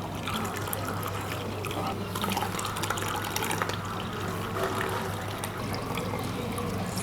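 Wheat milk for Tirunelveli halwa is strained through a cotton cloth and sieve, giving a continuous soft trickle of liquid over a low steady hum.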